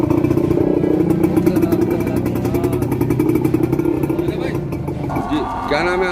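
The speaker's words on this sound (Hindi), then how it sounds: "थक हार कर पीड़ित बहादुर ने अपनी मोटरसाइकिल को काट कर उसमें ठेली फिट कर दी" Motorcycle rebuilt with a cart fitted onto it, its engine running steadily and loud throughout with a constant harmonic drone, under a noisy background with voices nearby.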